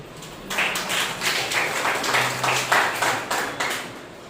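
Congregation members at a Sunday morning church service clap together for a member, a brisk rhythmic applause with distinct hand claps building up and continuing steadily throughout.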